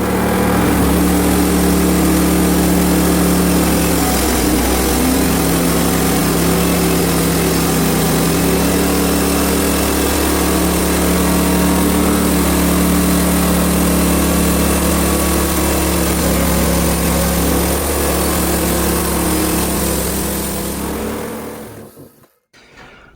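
A loud small sawmill engine runs steadily with a high whine for about twenty seconds while sawing through a log, then cuts out abruptly near the end.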